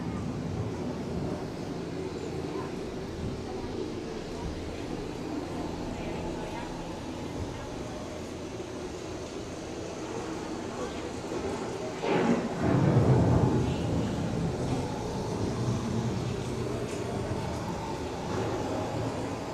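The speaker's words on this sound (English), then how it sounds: "The approaching storm may seem violent and destructive to us, but to nature, it's a new beginning in the cycle of life" An approaching thunderstorm effect on EPCOT's Living with the Land ride swells into a deep rumble of thunder partway through, riding over a steady bed of ride noise beneath a narrator's voice.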